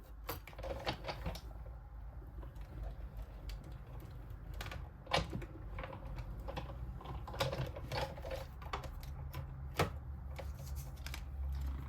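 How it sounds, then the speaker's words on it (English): A die cutting machine used for Stampin' Up paper crafting runs paper through its rollers. Faint, irregular clicks and small creaks repeat throughout over a quiet background. "So I'm just going to run that through my die cutting machine."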